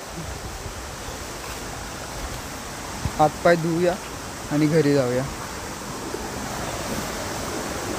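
A flooded river rushes over a fully submerged check dam, a steady broadband roar of flowing water heard from nearby, with two short bursts of someone talking over it.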